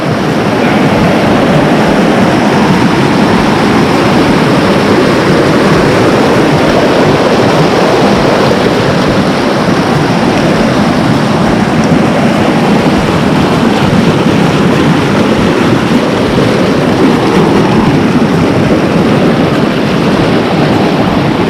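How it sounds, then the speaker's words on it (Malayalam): A waterfall near Munnar, Kerala, roars loudly and without a break, a dense wash of rushing water that drowns out everything else. "ഈ വെള്ളച്ചാട്ടത്തിലേക്ക് വന്നിട്ടുണ്ട് ഒരു സൗണ്ട് ഭയങ്കര നോയിസാണ്"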